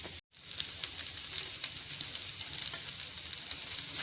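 Chilli, turmeric, pepper and fennel powders sizzle in a pan with a steady, close, bright hiss. The sound cuts out very briefly at the start, then carries on with scattered crackles.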